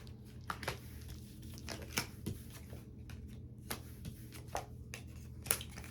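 Oracle cards are gathered up and handled by hand, giving quiet papery rustles, taps and crinkles at an irregular pace, close to the microphone with no voices.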